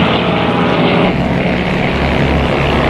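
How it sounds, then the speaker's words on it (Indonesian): Fighter planes flying in formation, a loud, continuous, dense engine roar with a droning low end that holds steady without a break. "Pesawat tempur mereka beriringan"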